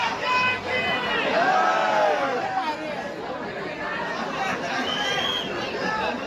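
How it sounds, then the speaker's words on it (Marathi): Dense, steady babble of a large crowd at the Ekvira Aai palkhi (palanquin) procession, an Agri Koli festival celebration, with many voices chattering at once close around and no single voice standing out. "बघू शकता किती गर्दी आहे"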